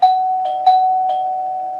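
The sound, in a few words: doorbell ringing twice, sound effect in story narration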